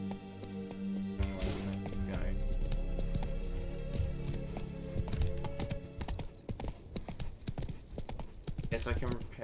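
Horse hooves clip-clop steadily in The Witcher 3, the horse Roach trotting along as a rhythmic, fairly loud patter under game music, with a voice speaking over it.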